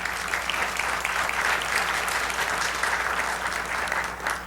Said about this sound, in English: which deserves a round of applause.